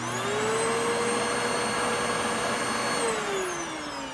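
A Eureka Contour upright vacuum cleaner with a worn brush-roll belt runs steadily, its motor giving a loud, close, whining hum whose pitch rises slightly at the start and dips as it winds down near the end.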